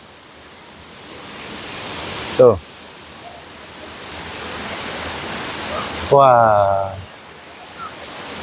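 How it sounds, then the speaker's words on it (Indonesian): Two waterfalls at Watu Ondo in Cangar, Batu, East Java, pour down in a constant, dense, hissing roar that fills the whole scene, with two short vocal exclamations over it. "kalian akan diapit oleh dua air terjun"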